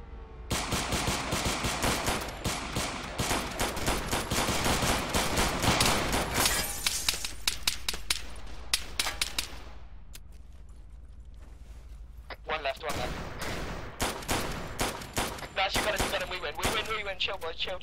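Assault rifle fire in the video game ArmA III: dense bursts of rapid shots, loud and continuous, a lull midway, then more volleys of gunfire.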